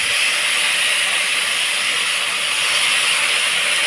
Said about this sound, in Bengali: এবার আমি কুলটা ভেজে দিলাম।